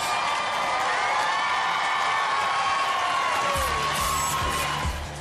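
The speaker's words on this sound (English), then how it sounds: "A big round of applause for all three teams here in the Annihilator Series" Arena crowd at a Robot Wars robot combat event applauding and cheering, a loud steady roar of clapping and shouts that carries on throughout, with a low rumble joining near the end.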